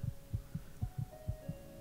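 Heartbeat sound effect from the video game Skyrim: a steady, rhythmic double-thump pulse repeating about every quarter second, low and throbbing under a faint sustained hum, with no talking.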